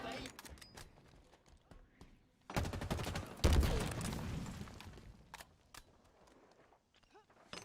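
Halo assault rifle gunfire, a long sustained burst of rapid shots that swells loud in the middle, with talking voices and scattered quieter game sounds before and after.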